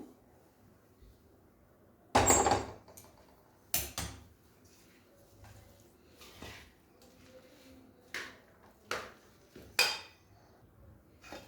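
Veg pulao being stirred and mixed in a pot, with a few sharp clinks and scrapes of a spoon against metal spaced irregularly, one louder clatter early on, close and fairly quiet otherwise.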